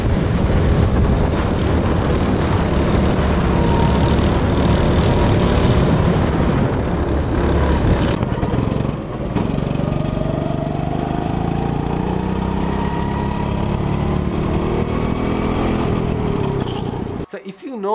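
A go-kart engine droning loudly as it accelerates and slows on a track, a continuous buzzing whine that shifts in pitch, with a voice talking over part of it.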